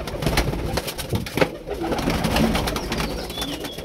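Several Madrasi flying pigeons at a loft coo close by in overlapping, throaty phrases, with a soft flutter or knock partway through and the cooing continuing steadily to the end.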